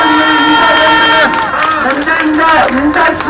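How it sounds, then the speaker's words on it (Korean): An outdoor rally crowd in front of the Supreme Prosecutors' Office claps and cheers to welcome a student performance, with lively mixed applause and voices blending into a busy, close crowd noise. "박수 부탁드립니다"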